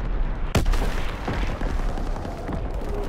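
Gunfire in the Call of Duty WWII zombies mode: one sharp, loud shot near the start, followed by a few fainter reports and rumbling game noise.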